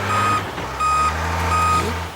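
A truck reversing, its backup alarm sounding three loud, evenly spaced electronic beeps over a low engine rumble.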